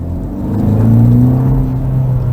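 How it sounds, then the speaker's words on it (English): Exhaust of a 2022 Hyundai Elantra N-line drones from inside the cabin while driving, a low steady rumble that swells slightly as the engine pulls, with no talking. "you hear the exhaust"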